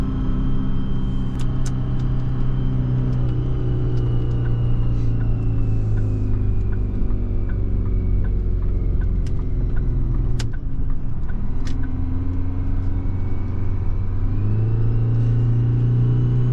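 Ford truck with a Detroit Diesel 4-53T engine running on waste vegetable oil, idling with a steady low rumble close by, a few brief faint clicks on top and no talking.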